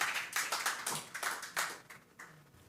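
A church congregation claps in scattered, uneven bursts, fairly faint and distant, the claps gradually tapering off with no voices over them.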